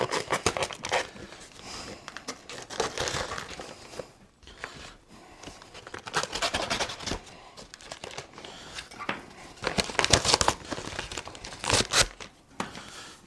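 A bag of sugar being cut open and handled, heard as repeated close crinkling and tearing of packaging in bursts with brief pauses, no talk.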